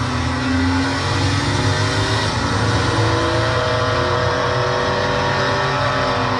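A Mercedes E63 driving hard on the Nürburgring Nordschleife during a tourist drive session, a loud continuous engine roar with shifting revs and the rush of wind and road noise close by.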